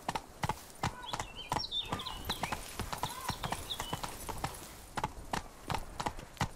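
Horse hooves clip-clop at a steady, close trotting rhythm in The Witcher 3: Blood and Wine, with faint chirping birds and ambient game sounds behind.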